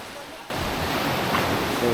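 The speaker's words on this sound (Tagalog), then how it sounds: "ini-enjoy ko lang yung alon" Sea waves wash in at Butas-butas Beach in Mauban, a broad, steady surf roar that swells in suddenly and continues loudly to the end, with wind rushing across the microphone.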